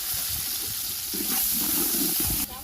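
Onions dropped into hot oil with cardamom, cloves, cinnamon and bay leaf, cooking for pulao over a wood-fired stove: a steady close sizzle that swells midway and cuts off near the end, with no talk.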